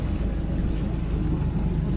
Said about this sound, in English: wet exhaust's running nicely